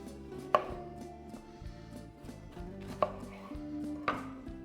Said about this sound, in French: la technique pour le poivron, pour avoir des lamelles ou des cubes, c'est couper la tête, couper le cul